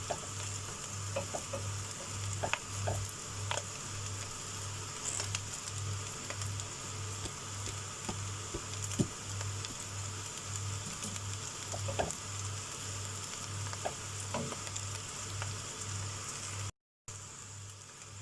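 Boiled rice stir-fried in a pan for street-style chicken fried rice gives a steady, close sizzle with scattered scrapes and clicks of stirring, over a constant low hum throughout.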